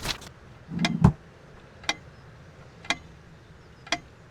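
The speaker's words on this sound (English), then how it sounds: "It can't keep the time for 5 minutes straight. Chimes completely at random and never stops making that infernal noise." An antique clock in the game Serena ticks in sharp, evenly spaced clicks about once a second, with a heavier double knock near the start, over a faint background hum.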